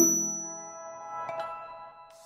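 A notification bell dings once and rings out, fading slowly with a faint shimmer. A soft tinkle follows near the end.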